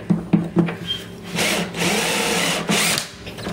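A power drill boring into wood while fitting small wheels to a trolley, with short bursts of whirring at first followed by longer sustained drilling passes, close and fairly loud.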